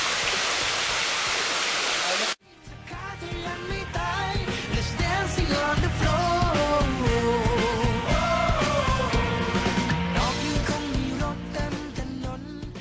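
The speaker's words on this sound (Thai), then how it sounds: "ตอนนี้เราอยู่ไหนครับเนี่ย น้ำตกวางวางครับ" Wang Wang waterfall at Phu Kradueng, heard as a broad steady rush of falling water; a loud noise burst opens, then the water continues under music with tonal melodic lines.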